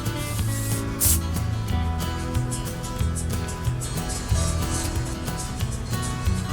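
Steady scrubbing and rubbing while old black grease is cleaned off the parts of a 1990 Johnson 30 hp outboard motor, a dense continuous scratchy texture with small bursts, close and fairly loud.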